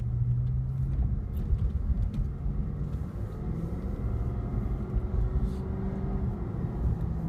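Steady low road rumble fills a moving car's cabin, a constant drone with faint shifting tones and no talk.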